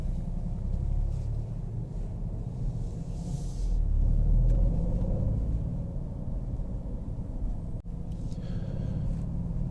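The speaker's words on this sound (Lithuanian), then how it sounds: "Kaipgi gerai važiuoja Maserati" A 2024 Maserati GranTurismo Trofeo drives along, heard from inside as a steady, heavy low engine and road rumble that swells briefly partway through, with no talking.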